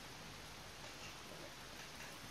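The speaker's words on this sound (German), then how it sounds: "Und schon wieder zeigt es mir Sonne an und es regnet." Rain falling in the video game Zelda Breath of the Wild, a faint, dense and steady patter of drops with no breaks or thunder.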